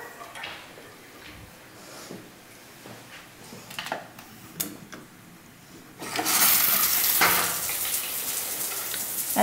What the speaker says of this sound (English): And we're going to turn on the shower.